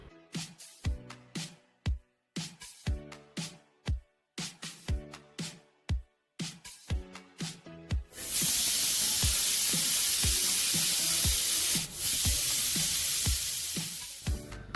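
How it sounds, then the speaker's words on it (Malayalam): A pressure cooker of vegetable pulao lets out a loud, continuous steam hiss with a shrill high whistle edge for about six seconds, following a stretch of rhythmic clicking beats. "അപ്പോൾ അതിനുശേഷം നമുക്ക് കുക്കർ അടച്ച് വെച്ചിട്ട് ഒരു 2 വിസിൽ വരണ വരെ നമുക്ക് വേവിച്ചെടുക്കാം."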